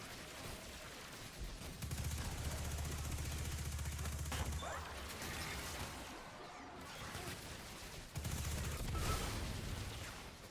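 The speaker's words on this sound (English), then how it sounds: "this SMG just feels so good when you hip fire it" Rapid automatic fire from a submachine gun fired from the hip in the video game Destiny 2, two loud sustained bursts of dense, rattling shots with a game soundscape between them.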